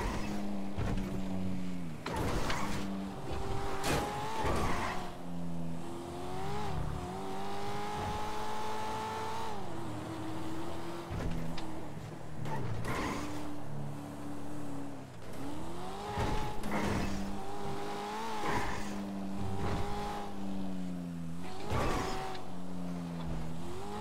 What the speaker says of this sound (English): I've got a blue car speeding from the area.